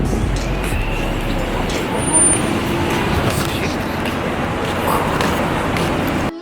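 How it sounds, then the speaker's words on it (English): Steady road traffic rumbles continuously with engines and passing vehicles, including a bus-like drone, a busy city street soundscape that stays at an even, fairly loud level throughout. "The traffic is still going."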